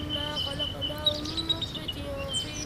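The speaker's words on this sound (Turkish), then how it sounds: "Kuşlar ötüyor, bülbüller." Faint high chirps and whistled notes of nightingales come over a low background murmur, scattered and fairly distant.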